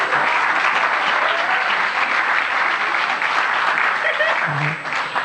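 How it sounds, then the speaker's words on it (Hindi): An audience at a Hindi comic poetry gathering at Deshbandhu College claps steadily in a dense, sustained round of applause, close and loud throughout, with a brief vocal sound near the end. "एक बार तालियां बजाए, माहौल दे।"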